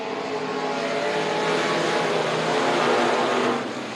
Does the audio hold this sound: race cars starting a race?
yes